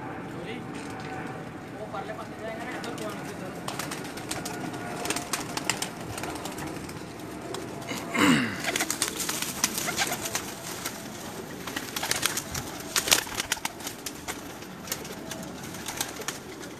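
Teddy pigeons coo steadily in a loft while people talk close by, with a brief sharper call midway and scattered bird sounds throughout.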